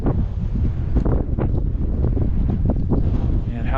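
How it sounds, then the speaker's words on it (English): Strong wind buffets the microphone outdoors at a historic bridge, a loud, continuous rumbling roar with gusty surges and no pauses. "Now the wind's really picking up."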